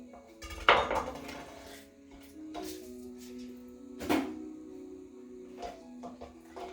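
A knife chops onions on a cutting board in a home kitchen, giving a few sharp, widely spaced knocks over a steady low hum.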